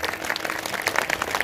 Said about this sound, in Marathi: एकदा जोरदार टाळ्या सर्व टाळकऱ्यांसाठी.